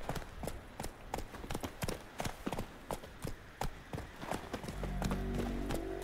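Horse hooves clip-clop in rapid galloping rhythm in The Witcher 3, close and distinct, before the beats blur into a steady low rumble near the end.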